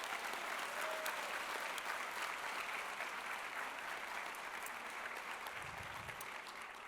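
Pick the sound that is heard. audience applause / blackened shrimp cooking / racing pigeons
audience applause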